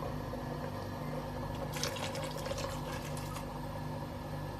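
Water poured into a pot of bean and pepper stew makes a soft splashing rush for about two seconds in the middle, close but modest against a steady background hum.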